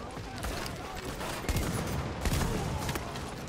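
Automatic weapon gunfire in Tom Clancy's The Division, rapid crackling bursts of shots fairly faint and mixed with a busy background, a voice talking over it.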